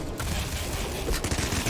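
Rapid MG cannon gunfire in the video game Nuclear Throne, a dense, continuous burst of loud overlapping shots with no talk.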